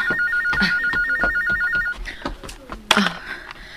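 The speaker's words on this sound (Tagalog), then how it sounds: "Kinsa pa ning nanawag sa telepono?" A telephone rings with a warbling electronic ringtone for about two seconds, loud and close, while people talk over it and a few knocks and bumps follow.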